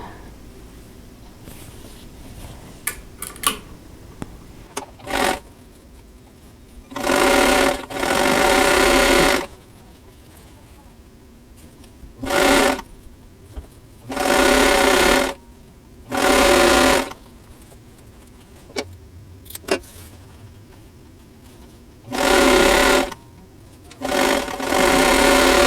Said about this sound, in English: So I'm going to sew these together